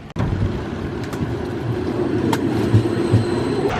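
A tram running on rails in Scotland gives a steady close rumble and rolling hum throughout, opening with a sharp knock, with faint clanks over the continuous drone and no talking.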